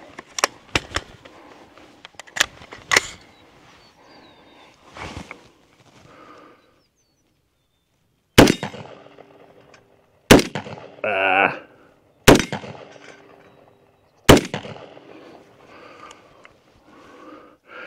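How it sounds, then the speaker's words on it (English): AR rifle shots fired offhand at steel dueling tree targets about 25 yards away, sharp separate cracks in an irregular sequence, each followed by a brief metallic ring from the struck plates. "Now we are about 25 yards from them, just shooting offhand"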